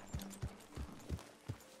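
Hooves of a horse in Red Dead Redemption II clopping at a slow, even walking pace, five clear, close thuds spaced regularly over a quiet background.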